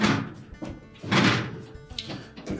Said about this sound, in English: We can now push the dishwasher back into the cabinets.